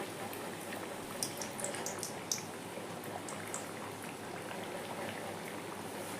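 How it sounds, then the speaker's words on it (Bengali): Onion kachori deep-frying in hot oil until golden brown gives a steady, dense sizzle and bubbling crackle, close and continuous throughout with no talk. "দেখেন গোল্ডেন ব্রাউন করে ভাজা হয়ে গেছে"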